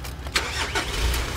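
A car engine cranks and catches, then settles into a steady, loud idle that fills the short clip alone, with no one talking over it.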